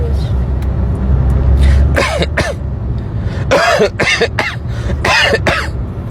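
Several harsh coughs and throat-clearing bursts come in quick clusters, close and loud, over a rumbling vehicle-like background.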